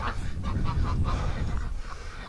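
A few short, nasal quacks from farm ducks in winter wind, spaced irregularly across a couple of seconds at moderate distance, under a constant low rush of wind.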